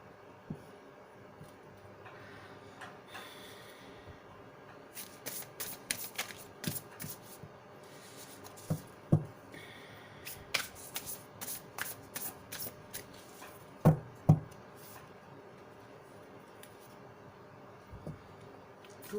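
Tarot cards being shuffled by hand at a reading, soft riffling bursts and sharp card snaps and taps recurring irregularly, close and fairly quiet with no voices.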